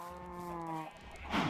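A cow on a video game farm lets out one clear, drawn-out moo that falls off at the end, followed by a brief rustling noise.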